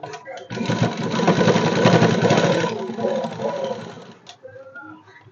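A sewing machine stitches a seam on fabric, a loud, close, steady mechanical whir that runs for several seconds, then slows and stops near the end.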